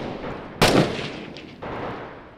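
A single heavy blast of mortar fire in the Six Days in Fallujah combat video game, a sharp loud impact with a rumbling tail and a softer second thud about a second later.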